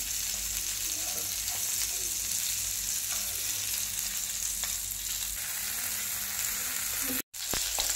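Fish fries in a pan after being turned, with a steady close sizzle and light crackle. There is a brief break just before the end.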